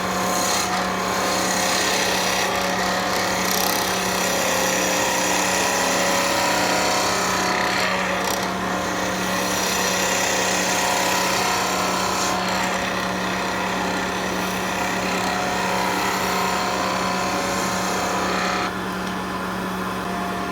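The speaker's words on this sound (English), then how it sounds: "So again, planing cut with skew." A skew chisel takes a long planing cut along a turned wooden skipping-rope handle spinning on a lathe, a steady close, loud scraping hiss that runs unbroken throughout with a constant motor hum beneath.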